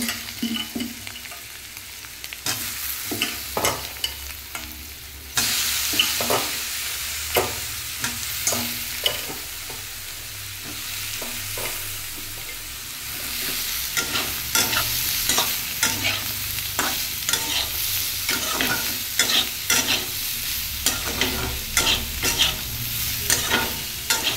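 Soybean chunks fry in a pan for a vegetarian dish, with a steady loud sizzle throughout and a utensil repeatedly scraping and stirring through them, close up and with no talking.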